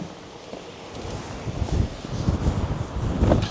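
Strong gusting wind buffets the microphone at an exposed viewpoint above Loch Ness, a low, roaring rumble that surges and rises in waves throughout, with no voices.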